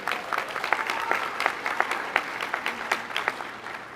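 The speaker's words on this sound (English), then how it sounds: "give yourselves a round of applause" Graduates at the Mission College 2022 commencement applaud, a crowd of clapping hands with sharp distinct claps standing out over a dense bed, sustained and fairly near.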